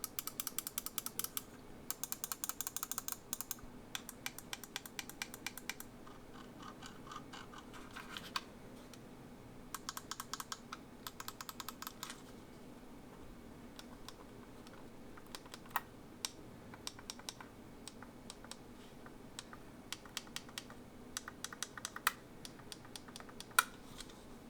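Crisp, quiet clicks of Logitech G602 gaming mouse buttons, fired in quick clustered bursts and scattered single taps, close up against a faint background with no talking.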